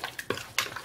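Potato pancake batter with minced meat, egg and herbs stirred in a bowl, giving a few brief scraping, clinking strokes against the bowl, close and fairly quiet.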